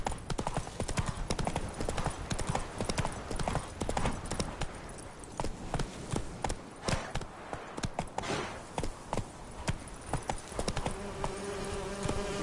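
Hooves of the horse Roach trot in The Witcher 3 with a steady, rapid clip-clop rhythm, loud and close, over a faint buzzing background.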